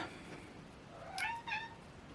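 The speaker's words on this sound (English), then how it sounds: "That is my cat." Two short cat meows close together, fairly faint against a steady background hiss.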